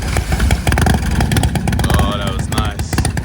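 Classic motorcycle engine firing up at a Sunday morning classic car and bike breakfast at a pub, loud choppy revving bursts close by with crowd chatter and voices mixed in.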